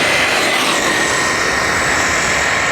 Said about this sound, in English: Let's full throttle once again.